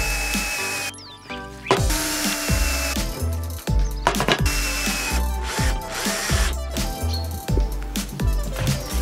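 A power drill bores a series of holes in wood for door handles and hooks, with repeated whirring bursts that spin up and wind down, close and loud, separated by short pauses and clicks.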